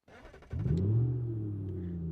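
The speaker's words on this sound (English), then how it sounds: "Listen to that V8 come to life." A Gavril Grand Marshal V8 engine in the video game BeamNG.drive cranks briefly, then catches and roars to life with a deep rumble that settles into a steady idle.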